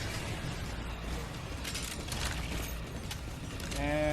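Giant spiders close in during an Earth Defense Force game, a dense clicking, ratcheting chitter with creaks that holds steady and grows louder toward the end, mixed with other game noise.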